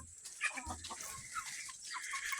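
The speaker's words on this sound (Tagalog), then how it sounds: "Tapos mayroon din tayo ditong mga ibang manok, yung panabong." Native gamecock chickens on a farm cluck and chatter softly in short, scattered bursts at a moderate distance, with no one speaking.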